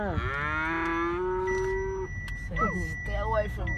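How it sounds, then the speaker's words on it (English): A baby cow lows in a long rising-then-steady moo, loud and close, followed by shorter bleating calls, with a faint electronic beep tone running through the middle. "It's a little baby cow, Nani."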